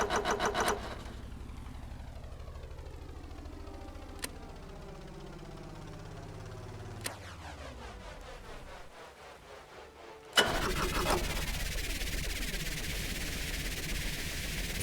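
An engine in the Stormworks vehicle game cranks and starts, a steady rising mechanical drone with a few sharp clicks, then jumps abruptly to a louder, rougher, busier roar near the end.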